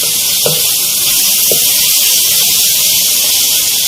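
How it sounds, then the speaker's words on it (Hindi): Chicken pieces coated in masala fry in a handi for Mughlai chicken, giving a loud, steady bright sizzle with a couple of soft spoon scrapes as it is stirred. "तकरीबन मैं इसको 5 मिनट तक फ्राई करती रहूँगी।"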